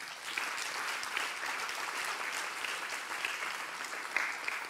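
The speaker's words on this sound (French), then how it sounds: "ça mérite vraiment vos applaudissements du fond du du cœur" Sustained applause from a large audience at an interview event, an even wash of many hands clapping at a moderate distance, continuous and unbroken from start to finish.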